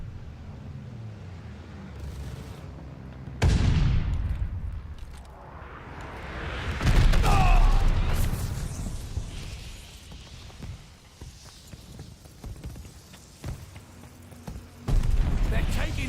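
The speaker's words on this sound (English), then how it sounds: "Friendly bombing run inbound." Bombing-run explosions in the war shooter Call of Duty Vanguard: heavy booming blasts and crashing debris that swell and recede in waves, loud and close, mixed with scattered gunfire and voices.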